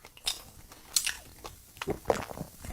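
Someone bites and chews an Algerian mchouek, a round pistachio pastry, giving several soft crunching bites close up with pauses between them and no talk.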